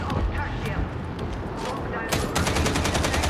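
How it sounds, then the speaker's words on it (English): Gunfire in Warhammer 40K Darktide, a dense stream of rapid automatic shots running throughout and growing louder and sharper in the second half, mixed with other game sounds and voices. "Shooting!"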